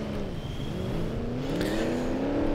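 A car drives in a BeamNG.Drive demolition derby, its engine humming steadily and rising slightly in pitch as it accelerates, close and continuous with no talking.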